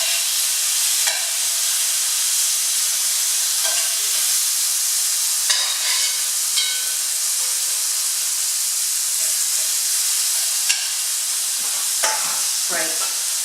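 Lamb pieces frying in a hot, uncrowded pan for a tagine, giving a constant loud sizzle and hiss with occasional stirring clatters throughout.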